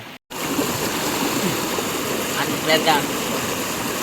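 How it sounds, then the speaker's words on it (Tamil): Floodwater rushes steadily into a village pond after rain, a loud continuous broadband roar of flowing water heard close, with a brief voice near the end. "எவ்வளோ தண்ணி போய் பாருங்க"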